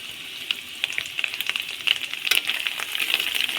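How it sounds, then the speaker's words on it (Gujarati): Gravy for a stuffed green chilli curry stirred in a pan over a low flame, a steady close sizzle with scattered scraping clicks from the spoon running throughout, no voices. "ગ્રેવીને સારી રીતે હલાવશું આપણે"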